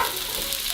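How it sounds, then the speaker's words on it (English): Ground turkey stirred in hot oil in a pan on a stove at medium heat, giving a close, continuous sizzle with soft scraping for under a second. "Mix that up."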